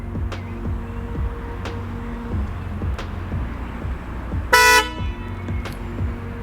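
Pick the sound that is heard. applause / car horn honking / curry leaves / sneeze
car horn honking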